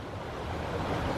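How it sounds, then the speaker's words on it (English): Running water from a waterfall in a small-town park, a steady rushing wash heard from a short distance, continuous and even with nothing else over it. "Listen to that water in the background."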